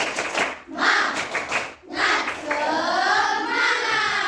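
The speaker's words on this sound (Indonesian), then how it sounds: "Coba kita dulu tepuk semangat." A sixth-grade primary school class performs a rhythmic spirit clap, bursts of hand claps in a patterned beat mixed with children's voices chanting along, fairly close and lively.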